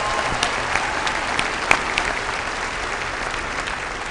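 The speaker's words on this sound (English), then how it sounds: "let us give a round of applause to this fantastic class of 2012" A large crowd at a university spring commencement ceremony claps steadily for the graduating class of 2012, a broad, even wash of applause with a few sharper claps and cheers standing out.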